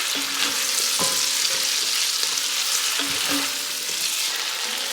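Beef bouillon stirred into a stew pot with a spoon, under a steady broadband sizzle from the cooking pot, with a few sharper clinks and scrapes against the pot around the one- and three-second marks.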